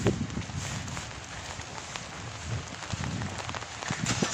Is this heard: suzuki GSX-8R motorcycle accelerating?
no